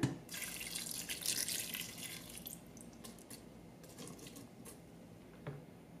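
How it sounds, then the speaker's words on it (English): Lemon juice mixture with onion and garlic pours into a 20-cup Aroma digital rice cooker, a close, faint splashing trickle that is busiest at first and then thins to scattered drips. "pour in the lemon juice mixture."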